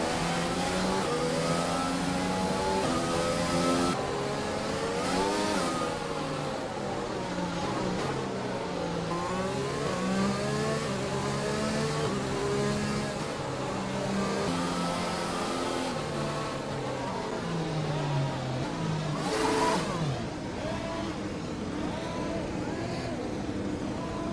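F1 2020 video game race car engine revving steadily through the gears for the whole stretch, a loud, continuous whine rising and falling with each shift, with some talk faintly underneath.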